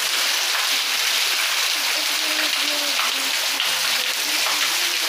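Heavy rain in the sertão of Pernambuco, Brazil, roars steadily and loudly while a voice talks faintly beneath the downpour.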